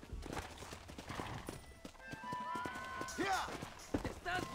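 Horse hooves clip-clop at a steady run in the Red Dead Redemption video game, with a whinny rising midway and game music or effects layered around, while someone talks over the top.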